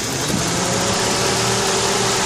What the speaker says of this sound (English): You can hear the RPM change when we go into base timing mode.